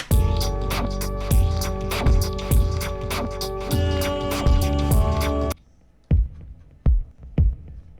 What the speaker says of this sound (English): The kick along with the original song should sound something like this.